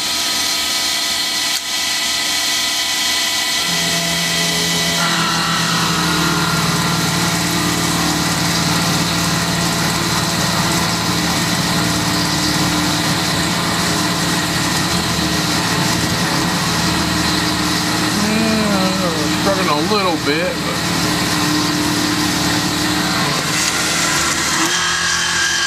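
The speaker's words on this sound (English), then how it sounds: "2500 RPM, 3/8 wide, 1/2 inch deep, and a feed rate of 5 inches a minute." Milling machine cutting a 3/8-inch-wide, 1/2-inch-deep slot at 2500 RPM with a 5-inch-per-minute feed during a power drawbar toolholder retention test; a steady, loud motor hum and cutting drone continues throughout with no speech.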